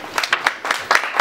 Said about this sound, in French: qu'on applaudit très très fort, s'il vous plaît